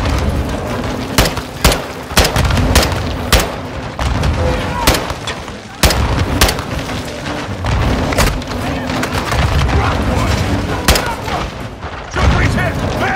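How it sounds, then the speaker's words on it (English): Grenade launcher fire and explosions in the video game Modern Warfare II: a dense barrage of sharp blasts and booms repeating every second or so over a constant roar of battle, loud and close, with voices shouting through it. "They're launching grenades!"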